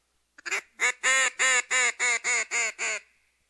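A duck call blown to imitate a mallard hen gives a run of about nine loud, evenly spaced nasal quacks close up, each one brief and honking, with no talking underneath.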